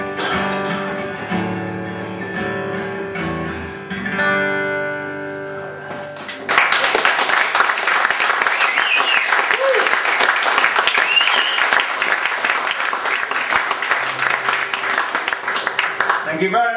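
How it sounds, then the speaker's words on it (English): A live concert audience breaks into loud, sustained applause as a sung performance of a song ends, the dense clapping swelling in and continuing without letup after the music fades. "Thank you very much, ladies and gentlemen, for the overwhelming warmth and generosity of that applause."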